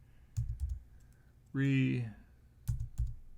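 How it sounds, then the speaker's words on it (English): A few quick clicking keystrokes on a computer keyboard, in two short bursts, with a brief voice sounding between them. "I'm going to type in"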